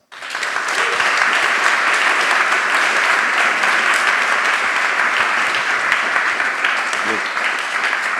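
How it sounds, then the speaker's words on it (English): An audience at a tech company talk applauds steadily for about eight seconds, a dense, sustained wash of clapping with scattered cheers beneath it. "Can I get a round of applause?"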